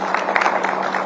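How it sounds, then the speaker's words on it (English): A crowd applauds long-serving KCPE examiners with over 30 years of marking, at a live event releasing the 2023 exam results; a steady, dense wash of clapping holds evenly throughout. "Please clap for them."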